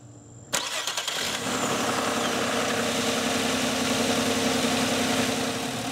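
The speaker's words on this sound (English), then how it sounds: "just starting the car and adjusting it by moving the throttle position sensor." A car engine cranks and catches after a brief silence, then settles into a steady, close idle hum during a throttle position sensor adjustment.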